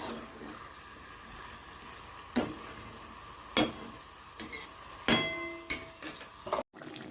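Chicken being stirred with spices in a pan for skin chicken, with a spatula clinking and scraping at intervals over a faint steady sizzle. No one talks.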